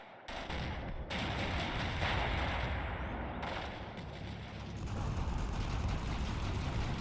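Mortar rounds and infantry grenade launcher fire in a Combat Mission Black Sea battle, dense rumbling blasts and crackling impacts piling up continuously, with sharper bursts cutting through.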